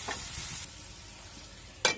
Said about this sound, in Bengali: এখন আমি দিয়ে দিচ্ছি সামান্য পরিমাণে জল